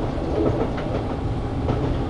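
A London Underground train running on rails in the TWS train simulator game, a steady loud rumbling roar with faint rhythmic clicks, no voices over it.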